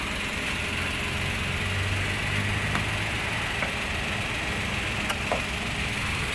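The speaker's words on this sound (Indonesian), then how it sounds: "suara mesinnya masih wadidaw pokoknya. Suaranya halus sekali." The 1000cc engine of a 2014 Toyota Agya G automatic idles with a quiet, smooth, steady hum. A few faint clicks sound over the low drone.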